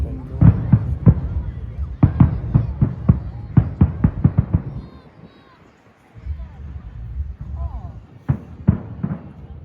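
Fireworks burst over a beach at night, a rapid series of loud booming thuds and cracks coming in clusters, with a lull and a steady low rumble before more bangs follow.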